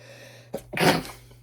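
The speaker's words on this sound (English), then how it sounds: "Excuse me for sneezing." A single close, loud sneeze, a short intake followed by a sharp burst, heard alone in a quiet indoor room with a faint steady hum.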